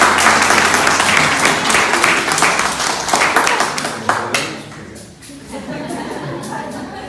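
A theater audience at a stage play bursts into loud, sustained clapping that dips briefly near the end before a softer round of claps resumes.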